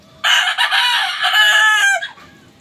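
A backyard rooster crows one long, loud, close call that rises and then trails off, alone with no voices around it.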